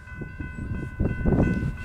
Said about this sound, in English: here comes the grain train we've been chasing since Mojave